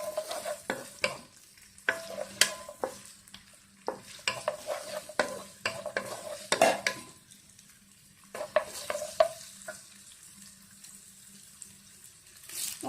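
Chopped onion and green chilli sauté in hot oil for sambar, with a spatula stirring and scraping the pan in repeated bursts over a soft sizzle, pausing briefly between strokes.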